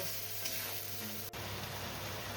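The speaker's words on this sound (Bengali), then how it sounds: "দেখো পেঁয়াজ রসুনটা কিন্তু আমার কষানো হয়ে গেছে" Onion, garlic and chili paste fry in hot oil for a Bengali bhetki fish curry, giving a close, steady sizzle with a brief break near the middle and no voices.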